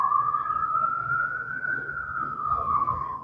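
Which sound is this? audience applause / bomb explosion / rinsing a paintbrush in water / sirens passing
sirens passing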